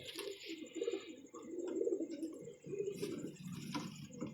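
Pigeons kept by a pigeon club coo softly nearby in repeated low throaty calls, with faint chirps and light background noise.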